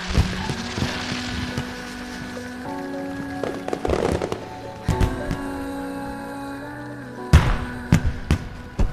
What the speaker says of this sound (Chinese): 快看烟花！